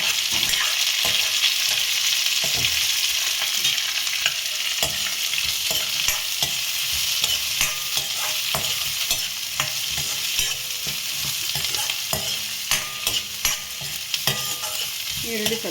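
Plenty of onions frying in a pan for rice rava uppittu, with a steady loud sizzle under repeated scraping strokes of a spoon stirring them, no voices.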